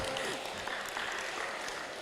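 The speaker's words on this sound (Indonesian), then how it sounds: "Kita berikan tepuk tangan sekali lagi" An audience at a school Ramadan gathering applauds with brief, moderately loud clapping that carries on evenly and fades slightly toward the end.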